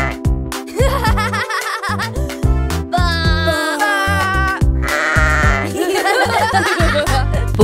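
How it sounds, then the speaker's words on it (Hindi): Sheep bleating repeatedly within a cheerful Hindi children's farm song, the bleats woven into bouncy music with steady bass and melody throughout. "वो देखो मेरे पसंदीदा फार्म एनिमल्स, वो है भेड़।"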